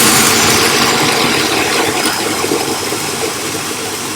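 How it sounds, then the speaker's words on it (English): A blender whirs steadily while blending a smoothie, a loud, dense, continuous motor roar with churning contents that eases slightly toward the end, heard alone without talk. "So I'm going to start blending it."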